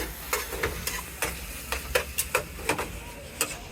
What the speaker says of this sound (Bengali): ফ্রেঞ্চ ফ্রাই হচ্ছে এখানে বাজে এই তেলে